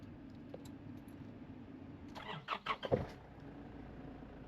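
A Nissan Navara pickup's engine cranks and fires up after about two seconds, a short burst of starter whirring catching into a running idle, close by and fairly loud over a low background hum.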